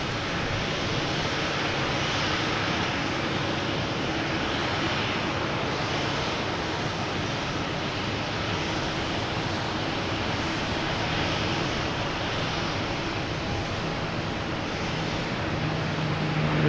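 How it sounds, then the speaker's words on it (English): Dense, steady roar of an Alaska Airlines jet arriving at Boston Logan Airport, heard at moderate distance as a continuous broadband rumble with no talk over it. "There's that Alaska that just came in making all the racket here."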